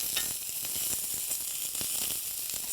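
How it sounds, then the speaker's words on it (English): Chopped onion sizzles in a preheated skillet with olive oil, a steady, loud, close frying hiss with faint crackles throughout and no talk. "I put onion into the preheated."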